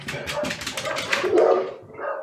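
A dog in the RimWorld video game barks and yips in a quick run of short, close calls, with a whimpering tone toward the end.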